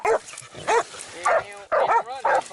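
Dog barking during a wild hog hunt in Texas, five loud, close barks at a steady rhythm about half a second apart.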